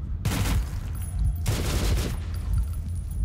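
Incendiary rounds firing in Metro 2033 Redux, a loud gunfire burst that thins out, then a second full burst about a second later, with no talk over it.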